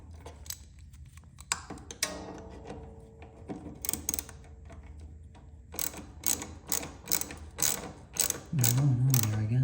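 A hand ratchet clicks rapidly in bursts as it tightens the centerstand bolt on a 1979 Vespa P200E scooter. The clicking is close and crisp, with short pauses between runs and a low mechanical hum near the end.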